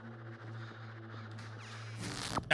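Crows cawing in the video game Luigi's Mansion 2 HD, a busy burst of harsh calls rising near the end over a steady low game hum, with no talk.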